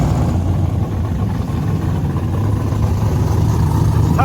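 Drag racing cars at Hot Rod Drag Week at Maple Grove rumble up to the lanes, a loud, steady low engine drone of idling and slowly rolling motors, with no talking.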